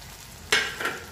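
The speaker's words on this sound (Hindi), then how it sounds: "अब इसमें डाल देंगे हम टमाटर और हरी मिर्च को" Tomato and green chilli drop into golden-brown frying onions for matar paneer, setting off one sudden loud sizzle that fades, then a second, smaller flare of sizzling as the pan is stirred.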